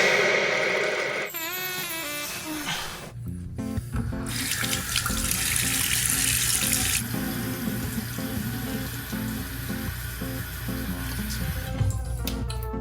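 Tap water runs steadily into a sink to wet hair before a home haircut, a continuous close hiss and splash with brief interruptions as the flow shifts; no talking.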